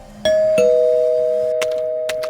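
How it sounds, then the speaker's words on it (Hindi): Two-tone electronic doorbell chime rings clearly, followed by a sustained ringing tone and a few soft knocks or clicks near the end. "दरवाजे की घंटी बजती है"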